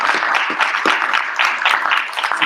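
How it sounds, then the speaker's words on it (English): An audience bursts into applause at a live JoeFest show, a dense burst of clapping that runs for a couple of seconds. "Let's give that a round of applause"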